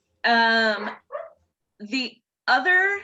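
A big dog barks loudly and close in a few drawn-out, harmonic barks separated by short gaps, with a voice speaking briefly between them.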